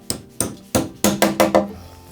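Six sharp, solid wooden knocks from hammering a wooden wedge to lock a kamachi (door frame post) while rebuilding a 50-year-old entrance with traditional carpentry, landing in an uneven rhythm, close and clear with no talk.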